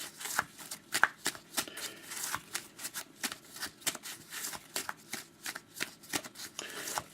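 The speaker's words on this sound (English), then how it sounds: "So I shuffle, cut." A deck of hockey trading cards is shuffled and cut at close range, giving repeated crisp riffling flicks and slaps in quick irregular bursts with no talking.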